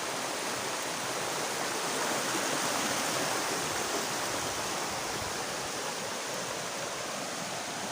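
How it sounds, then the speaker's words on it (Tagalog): River water rushes between rocks in a dense, continuous broadband flow. It sounds close and steady throughout, with no voices. "Dyan sa gitna dumadaan yung tubig."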